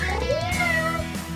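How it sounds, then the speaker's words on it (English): A robotic cat toy with soft fur gives a single drawn-out, realistic meow, close and clear, rising then falling in pitch over about a second, heard alone without talk. "It even lets out gentle, realistic meows."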